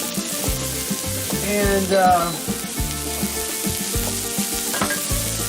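Onion sizzles steadily on a hot grill while burgers are made, a continuous frying hiss with crackles and scraping stir noises throughout, close and fairly loud, with a brief word of speech.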